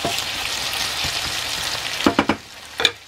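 Potatoes fry in a pan with a steady, broadband sizzle throughout, joined near the end by a few sharp clicks and scrapes of stirring.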